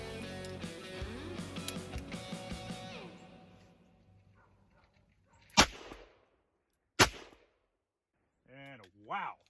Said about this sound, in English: So when I'm firing the gun, I can feel it come up my arm in the flash.